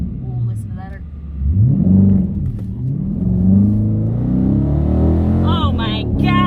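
A Hemi-powered car accelerates hard on its first drive after a TSC install, the engine droning and rising in pitch from inside the cabin while people talk and exclaim over it.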